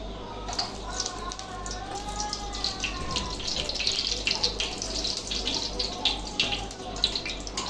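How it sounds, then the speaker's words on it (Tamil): About 200 ml of cooking oil is poured into a large pot for a rice dish made with 3 kg of rice. A steady, close liquid pour with light splashing runs throughout the clip. "எண்ணெய் ஊற்றிக்கலாம்."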